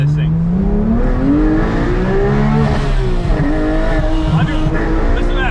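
A powerful Porsche 911 GT3 Touring engine revs and accelerates loudly, its pitch climbing and dipping through gear changes, close and continuous.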